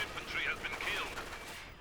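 Mortar fire and explosions amid battlefield gunfire in the World War II strategy game Company of Heroes 2, a short burst of bangs and crackling under a commentator's voice.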